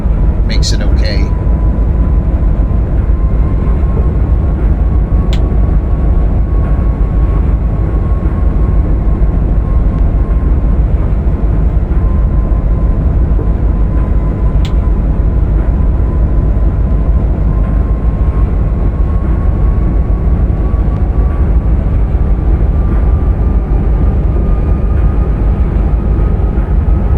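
Santa Fe Express train running fast on straight track through the Sonoran Desert, a loud continuous rumbling roar with a faint steady whine, unbroken from start to finish.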